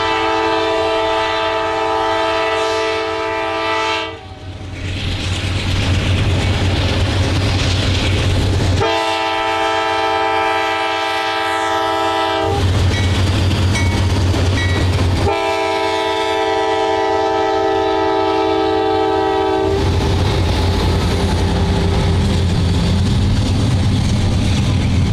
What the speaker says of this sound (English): we caught train Q393 again near Defiance, Ohio.